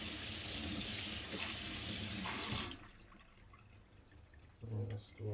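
A knife being sharpened, a Takamura Migaki R2 gyuto, is rinsed under a running tap: a loud, steady splash of water for about three seconds, then quiet with a short burst of water at the end.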